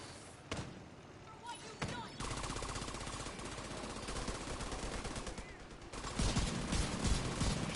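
Sustained gunfire aimed at a robot's weak spots in The Division 2, dense rattling bursts that build into near-continuous automatic fire with heavy thumps, loud and close throughout.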